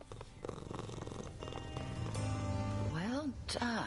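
Cats purr and give a few rising meow-like calls in the video game Hades 2, close and steady over a continuous game soundtrack, with a voice speaking partway through.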